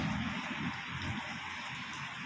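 Steady rain hiss fills the scene, with soft patter of drops throughout and a low rumble underneath; no one speaks.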